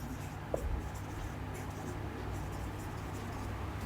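Marker or chalk writes a sentence on a board in a spoken English class, faint scratchy strokes over a quiet room hum, with one brief tap near the start.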